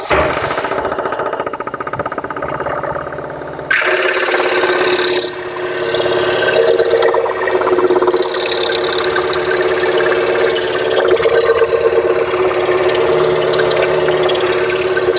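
A Harbor Freight scroll saw runs loudly and steadily, its motor giving a rapid, buzzing chatter as the blade cuts a small jigsaw piece at a 90-degree angle. The tone shifts abruptly once the cut begins.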